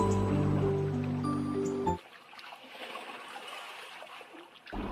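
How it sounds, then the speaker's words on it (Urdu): Gentle flowing water in an audio story, a soft trickling stream heard quietly after low background music cuts off. "اچانک اسے اپنے بائیں جانب پانی کی آواز سنائی دی"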